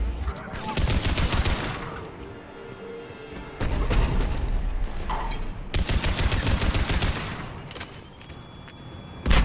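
Rapid bursts of DMR rifle gunfire from the video game Mass Effect 3 rattle in loud, dense volleys, stopping briefly and resuming twice, layered with booms and battle noise.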